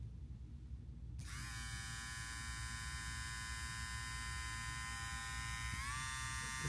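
A VGR two-speed electric hair trimmer switches on after a second of quiet and buzzes steadily up close with a bright, even whine, then steps slightly in pitch near the end.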